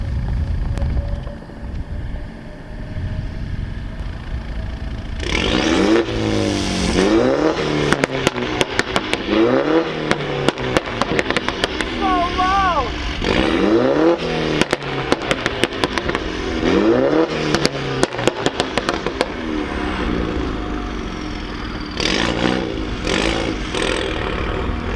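Loud exhaust of a Stage 2 Mini fitted with a SuperSprint midpipe, heard from across a parking lot as the car starts, revs hard through several gears with crackles and pops, and pulls away before fading into distant engine noise.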